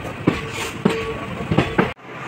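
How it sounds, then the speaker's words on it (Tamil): A night express train rolls slowly along the rails near Tiruchirappalli Junction, with several distinct clickety-clack wheel beats over rail joints at an uneven, unhurried pace, heard from inside the carriage. "ஏன்னா ட்ரெயின் அவ்வளோ ஸ்லோவாக போயிட்டுருக்கு"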